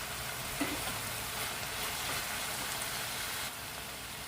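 Leftover roti noodles coated in oil and salt go into a pan, raising a soft, steady sizzle and hiss that runs throughout at low volume, with a small clink near the start.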